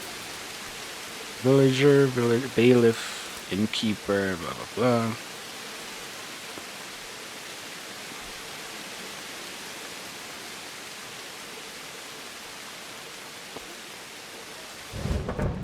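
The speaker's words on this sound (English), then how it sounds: "Alright, now it's raining." Rain and thunder in Kingdom Come: Deliverance, a steady hiss of rainfall with low rumbling thunder beneath, broken early by someone talking and a brief closer rumble at the end.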